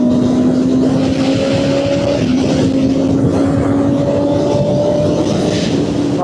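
BMW S1000RR sport bike engine heard loud and close while riding, a continuous high-pitched whine holding steady with a slight dip partway through.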